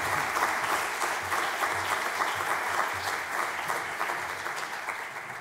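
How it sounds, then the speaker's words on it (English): A warm round of applause from a full audience at a talk on dealing with Russia, a thick, even roar of clapping that stays steady and fills the room for several seconds with no voices over it. "Robert D. Kaplan, give him a warm round of applause"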